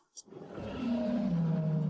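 An old lion gives a low, rumbling roar that swells and holds steady for over a second, preceded by a brief sharp click.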